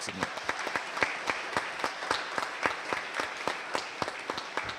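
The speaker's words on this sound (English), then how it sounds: "Let's have a round of applause." An audience at a hall of fame induction ceremony applauds steadily, dense overlapping claps with sharper individual hits throughout, fairly loud and continuous.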